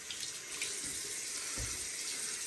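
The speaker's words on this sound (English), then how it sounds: "get this hot water going." Hot water runs from a bathroom tap into a sink during shaving, a steady soft hiss with a couple of faint low splashes, alone and fairly quiet.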